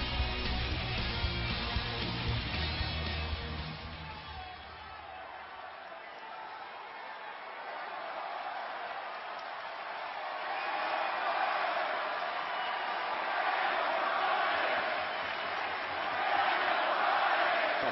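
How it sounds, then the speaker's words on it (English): A festive crowd of nearly 15,000 fills an arena in Chicago for a WWE SmackDown wrestling show, a steady roar and murmur that swells and dips over 18 seconds while a commentator talks over it. "Festive crowd here tonight in Chicago."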